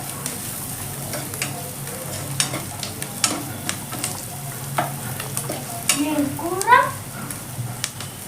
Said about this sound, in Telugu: ఈ జీడిపప్పు కాస్త వేగాలి, అంతవరకు మనం దీన్ని మంచిగా వేయించుకుంటాం